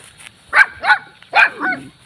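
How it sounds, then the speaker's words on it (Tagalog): Several sharp dog barks in quick succession, fairly close, with short pauses between them and no talking. "Daming aso."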